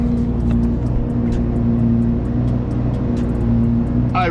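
Chevrolet Camaro with an airbag fault and intermittent check engine light idles while warming up, a steady, loud low rumble holding even throughout.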